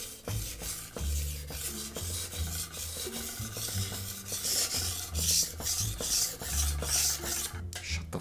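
A dull knife blade is sharpened freehand on a stone, with repeated rhythmic rasping strokes, close and fairly loud, in an uneven back-and-forth pattern.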